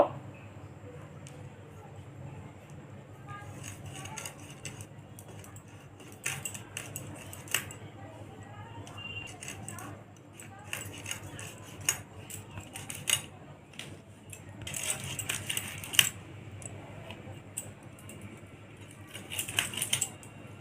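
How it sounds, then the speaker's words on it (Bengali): Hilsa fish being cut into pieces with a knife in a home kitchen: soft, irregular taps and clicks of the blade against the board, faint and sporadic, with brief denser clusters. "মাছটা তো আমি কেটে নিয়েছি"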